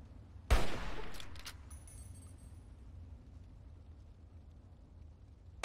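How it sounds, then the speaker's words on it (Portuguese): A sniper rifle fires in the Fallout 3 video game, one sharp, loud shot with a ringing, fading tail, followed by quiet and the sudden start of another shot at the very end. "Três tiros pra matar, meu Deus."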